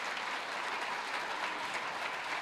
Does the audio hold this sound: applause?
yes